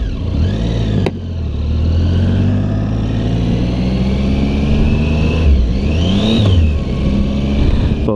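A 2016 Triumph Tiger 800XC motorcycle engine revs loudly and up close, its pitch climbing and dropping through gears under a rumbling drone with a sharp click near the start and rushing wind noise, with no talking.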